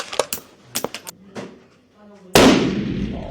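Gunshots at a Chinese civilian shooting range: a few sharp cracks and pops early on, then one loud, heavy blast that fades through a lingering echoing tail.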